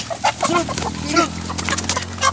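Chickens clucking close by in a rural yard, a few short repeated clucks and calls over a steady low hum, with a voice briefly heard in the background.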